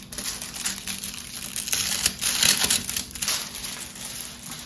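Plastic wrapping being crinkled and peeled off a BTS photo book, close and fairly quiet, with irregular crackling rustles throughout and no talking.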